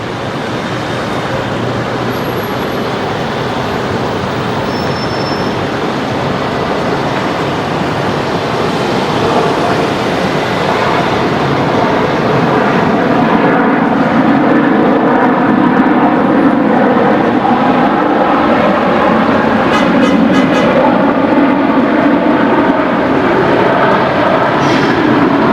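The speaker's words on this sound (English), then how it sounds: "next aircraft to arrive is going to be Qantas 540, just about to touch down" A Qantas jet touches down at Brisbane Airport, a broad, sustained roar that swells and holds for the whole stretch, loud and continuous with no voices.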